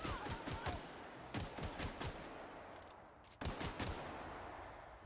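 Rapid bursts of gunfire from The Outer Worlds: Spacer's Choice Edition video game, several clusters of sharp shots in quick succession, loud and close, with a brief pause before a final volley.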